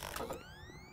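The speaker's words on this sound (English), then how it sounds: "Just let me switch my guns" Mechanical weapon switch in the video game Doom 3, a quick ratcheting clack of metal parts followed by a rising whine as the new gun readies, close and clear with no talk over it.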